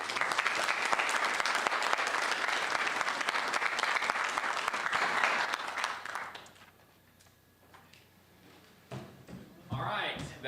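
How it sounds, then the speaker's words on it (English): An audience at a bipartisan community forum applauds the sheriff candidates with loud, sustained clapping that fades, then swells again briefly near the end, with a voice speaking over the quieter stretch. "give them another round of applause"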